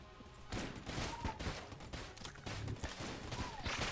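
Gunfire in the video game Enter the Gungeon, a dense continuous barrage of rapid shots and impacts, fairly quiet but unbroken across the clip.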